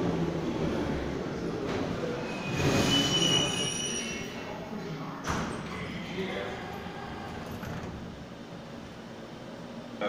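A Moscow metro train rumbles along with squealing wheels and clattering over rail joints, steady and close, while people talk faintly in the background.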